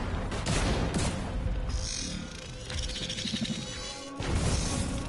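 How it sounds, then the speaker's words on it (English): An explosion in the shooter video game The Division 2 bursts loud and close, with dense crashing noise and gunfire-like rumble lasting several seconds before a brief lull and a renewed blast. "I was too close to the explosion."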